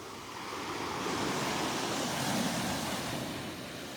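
Surf rolls and breaks steadily along a Gulf beach at Delnor-Wiggins, a broad continuous wash that swells in the middle and eases toward the end, with some wind noise and no voices.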